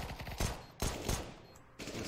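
Bursts of rifle fire ring out in a Counter-Strike match on the map Mirage. There are several sharp clustered shots in quick succession at moderate loudness, with no voices.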